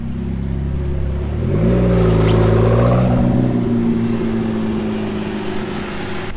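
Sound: McLaren 675 LT Spider supercar driving past

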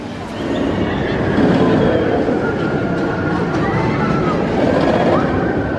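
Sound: B&M sit-down roller coaster Hulk with onboard sound

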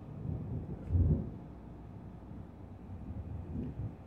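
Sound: thunder during a storm

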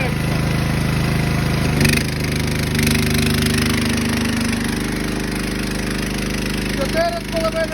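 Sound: Matari power generator running under load test

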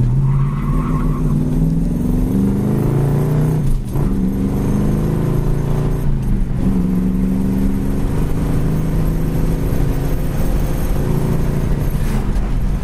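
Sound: 1966 Ford Mustang driving and accelerating on road

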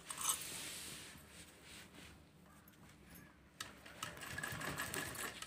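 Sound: sewing machine stitching a jumbo grocery bag

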